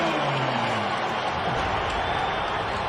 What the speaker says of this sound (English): This is what the crowd's been waiting for here, and there's quite a buzz going on.